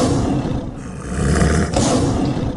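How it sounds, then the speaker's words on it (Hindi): Lion roaring as a cartoon sound effect in an animated Hindi children's story, a loud, sustained growling roar filling the whole stretch with a couple of swelling surges. "शेर की दहाड़"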